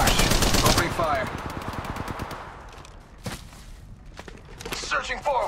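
Automatic gunfire rattles in rapid bursts in the mobile video game Apex Legends Mobile, loud at first and then thinning into scattered shots and footsteps, with a voice speaking over the action.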